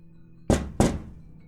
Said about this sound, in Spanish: Un golpe seco